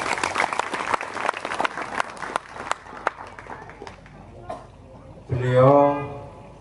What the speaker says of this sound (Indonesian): Tepuk tangan untuk Bopo Karmani.